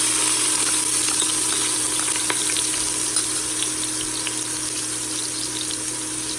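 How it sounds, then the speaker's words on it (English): Ginger garlic paste sizzling in hot oil inside an Instant Pot while making egg biryani, a steady hissing fry that holds at an even level throughout with no talking. "And now I'm going to add my ginger garlic paste."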